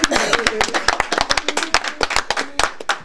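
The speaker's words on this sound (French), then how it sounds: "Nous acclamons encore pour maman Claudine." A church congregation claps in a brisk, even rhythm, the sharp hand claps loud and close, with voices talking over them.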